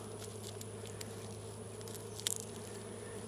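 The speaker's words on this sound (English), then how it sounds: "this can be the bees coming back from robbing. There's such a frenzy" Honeybees in a frenzy as they return from robbing, a steady close buzz of many insects, with a brief louder burst of wing noise near the end.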